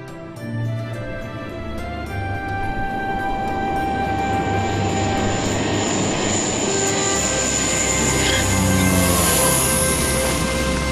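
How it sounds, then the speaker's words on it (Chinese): Airplane engine during flight and landing: a loud, steady whining drone that slowly rises in intensity, with no talking over it. "鹏飞，这次飞得不错，降落啊，非常好啊"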